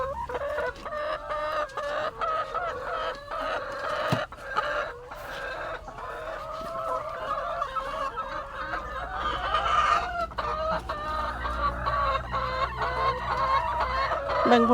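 A flock of chickens clucks continuously nearby, with busy overlapping calls and a rooster-like crow rising now and then.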